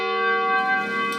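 A large church bell, swung on its yoke in a steeple, rings with a sustained, resonant tone, its rich overtones humming and slowly decaying, close and loud.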